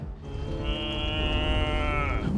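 Cattle give a single long, loud moo, drawn out for about two seconds with a strong, rising tone, heard alone and close by with no talk.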